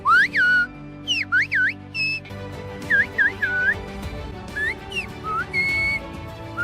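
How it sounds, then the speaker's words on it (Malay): Loud, shrill finger whistles made with a little finger in the mouth, a whistled language using rising and falling pitch sweeps in short repeated phrases, some bursts clustered, some held tones, all close and clear without talk. "Mereka menggunakan nada yang berbeza untuk menunjukkan ekspresi yang berbeza di dalam siulan."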